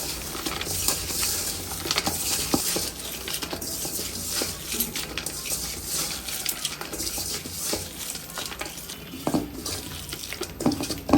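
Egg pitha batter seasoned with salt, cumin, ground coriander and chili powder is mixed by hand, giving a continuous close, wet squishing and stirring texture with small irregular squelches throughout.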